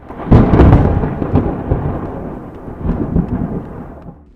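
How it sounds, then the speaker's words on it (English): Loud thunder during a storm: a near, heavy rumbling crash builds and rolls, eases off, then swells into a second deep rumble before fading, with a faint wash of rain beneath and no voices. "This thunder is enough to make even courage itself want to find shelter."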